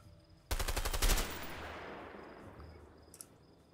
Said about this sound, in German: Wir müssen einfach rumschießen.